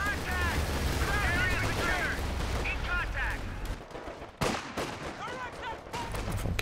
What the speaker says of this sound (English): Some AT gun shots in there.